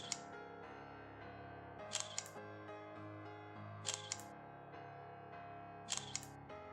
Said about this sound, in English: the camera will automatically take a photo when it detects a face